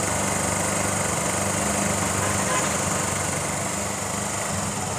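A Yamaha FZ motorcycle fitted with a Pulsar carburetor runs on choke, its engine holding a steady, buzzing idle drone close by for the whole stretch without any change in pace.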